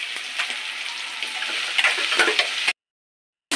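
Onions and garlic fry in a pan for red chutney, giving a close, busy sizzle with small ticking pops and stirring sounds that cut off abruptly into a moment of silence.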